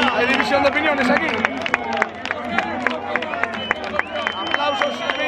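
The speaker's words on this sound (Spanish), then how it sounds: "Aplausos" A football crowd in Fuenlabrada claps after a 2-0 win over Sporting de Gijón, with sharp, uneven hand claps and crowd murmur around them. Voices talk nearby throughout.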